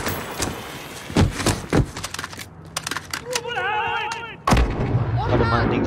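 Gunfire in Call of Duty Modern Warfare, several sharp loud shots scattered across the moment, mixed with game effects, a warbling tone and some speech.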